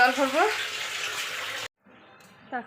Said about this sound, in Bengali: জল ভরবো, সবার ফার্স্টে ঝটপট করে জলটা আগে ভরে নেই।